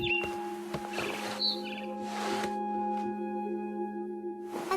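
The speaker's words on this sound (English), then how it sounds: "Then I heard chirping outside my window. It was a barn swallow going back to her nest." A barn swallow chirps outside a window in a video game scene: several short, bright twittering calls come in bursts over a faint hum, with no speech.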